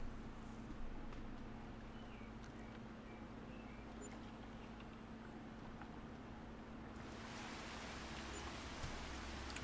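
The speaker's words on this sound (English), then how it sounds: "Rain is fine, hail not so much." Steady rain in the farming video game Farming Simulator 25, a continuous broadband hiss with a low hum underneath that swells brighter and louder near the end, with no talking.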